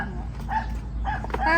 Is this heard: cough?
no